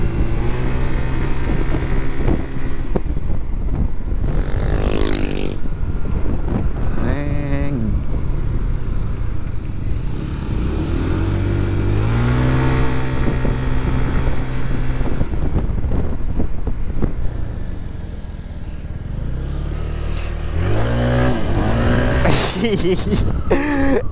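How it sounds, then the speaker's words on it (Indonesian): A loud Honda PCX 160 scooter engine drones and revs while riding, its pitch rising and falling with throttle changes, with wind buffeting and intermittent talking over it. "Semoga aja kedengeran ya suara mesinnya di mic."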